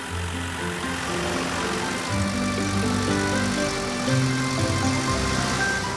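Several cartoon vehicle engines, including a tractor and a small green car, hum and drone steadily together, like cars idling and driving off, a continuous mechanical buzz with shifting pitches and no voices.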